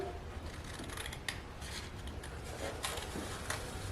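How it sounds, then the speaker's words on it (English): Scissors cut through an index card in a series of close, crisp snips at an uneven pace, fairly quiet against a faint background hiss. "use the first one that you cut as a template to cut the next 2. So we'll cut this one."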